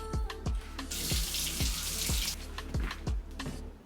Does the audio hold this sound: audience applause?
no